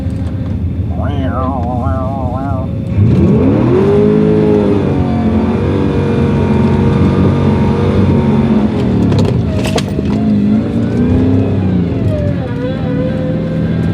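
An LS V8 engine in a Porsche 944 runs steadily close by, with power steering whining in wavering tones rising and falling over the rumble; brief speech-like sounds occur near the start.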